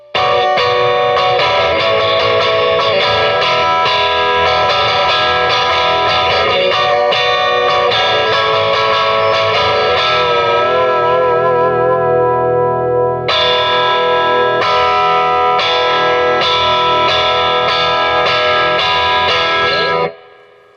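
A distorted Fender Jaguar electric guitar, pickups in series with the middle pickup and the bass cut switch on, plays sustained, snarling chords with a thin, bright tone and warbling modulation, loud and continuous for about twenty seconds before cutting off.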